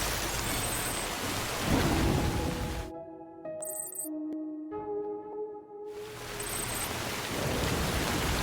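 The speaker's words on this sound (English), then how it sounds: "I don't think this rain's gonna stop." A heavy thunderstorm in the video game Death Stranding Director's Cut: a loud, dense rush of rain and rumbling opens and closes the stretch, and in between it cuts out for a few seconds of clear, ringing chime-like tones.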